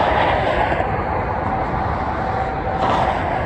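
An EMD-powered Norfolk Southern freight train gaining speed beside the Allegheny River, a loud, steady rumble and roar of engines and rolling cars with no speech over it.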